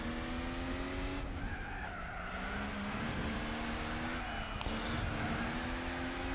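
A race car in Gran Turismo 4 holds a steady, loud engine drone through a run of corners, its pitch dipping and rising with gear and throttle changes while the tyres skid and squeal.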